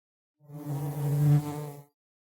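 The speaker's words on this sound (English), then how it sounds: "There's this wasp that just won't quit." A wasp buzzes close by in one sustained droning pass lasting under two seconds, swelling then fading, with no voices.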